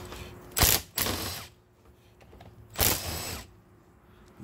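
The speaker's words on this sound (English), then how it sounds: "Go ahead and take the bleeder valve out." Socket wrench ratcheting as the bleeder valve comes out of a Rolls-Royce brake caliper: two quick close clicking bursts, a pause, then a third longer ratchet run.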